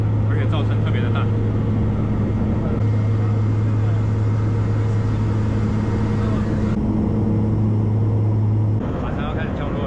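A small airplane cabin in flight over Somalia fills with a loud, steady engine drone and rumble throughout, with a voice talking over the noise.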